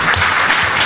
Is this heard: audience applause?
yes